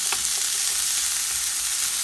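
Onions sautéing for chili in a preheated hot pan, a steady close sizzle and crackle with a few brief stirring scrapes, no talking.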